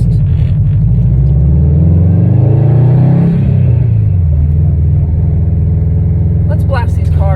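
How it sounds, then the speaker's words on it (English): A manual transmission car pulls away from a green light in first gear, its engine rumbling low and rising slightly in pitch before settling, close and loud throughout. "I'm going to clutch and go to first."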